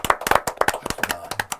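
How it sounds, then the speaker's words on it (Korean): Studio audience clapping on a Korean traditional-music talk show, a burst of quick, sharp, close handclaps in an uneven rhythm that thins out toward the end, with no talk over it. "나 이거 박수 나오네."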